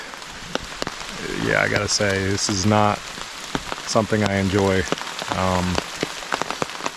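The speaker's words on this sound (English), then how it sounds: "And as you could hear and see, it's still raining behind me" Rain falls steadily on the Appalachian Trail in Georgia, a soft constant patter beneath someone speaking close by.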